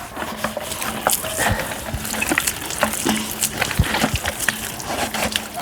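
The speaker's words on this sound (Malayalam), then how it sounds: "എനിക്കെടുത്തുണ്ട് വെള്ളം. അപ്പോൾ ഒന്ന് കഴുകാൻ." Water splashes and sloshes as a painted surface is washed with soap, with irregular wet slaps and drips close by and a faint low hum underneath.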